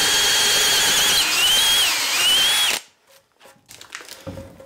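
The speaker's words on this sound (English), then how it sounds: "Drill the holes offset so that the peg pulls the join together." A power drill bores offset peg holes through a timber frame joint for a small hydroelectric powerhouse, whining loud and steady for nearly three seconds before stopping, followed by faint knocks and handling noises.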